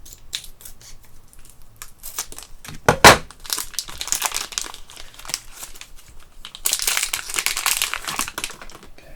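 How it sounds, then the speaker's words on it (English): Plastic packaging of an Epson black ink bottle for an EcoTank ET-2715 printer cut open with scissors, giving close snips, a sharp crack, and steady crinkling and rustling of wrapper throughout. "So we're going to start off with the black ink. I'm just going to cut it open."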